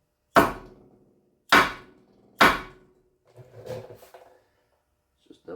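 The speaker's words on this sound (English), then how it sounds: "We've got one of these dead blow hammers here." A dead blow hammer strikes three times in a steady rhythm during a supercharger installation on a Camaro SS, each hit a close, loud, dull thud. Quieter shuffling and handling noises follow.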